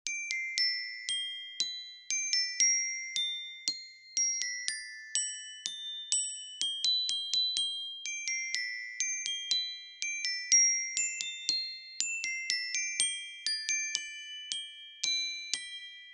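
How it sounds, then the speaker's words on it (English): Bright, high metallic notes from a glockenspiel play a quick melody, each struck tone ringing briefly before the next, clear and alone. "Glockenspiel."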